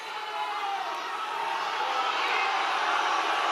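An audience in a large hall roars and boos, a broad continuous wash of crowd noise that holds steady throughout without a break.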